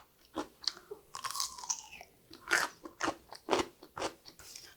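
Crisp crunching and chewing of pickled dongchimi radish, made from daikon radish in cold water kimchi, comes as a string of close, sharp crunchy bites in an uneven rhythm, with no talk.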